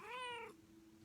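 A house cat lets out a single short meow, close and clear, tailing off into low background hum.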